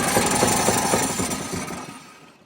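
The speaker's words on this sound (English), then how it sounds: "that knocking sound you heard was the head bouncing up and down" An Oliver 77 diesel tractor engine pulled from a junkyard cranks on its starter while its loose cylinder head knocks. The result is a loud, rapid, rhythmic hammering clatter close by that winds down and fades at the end.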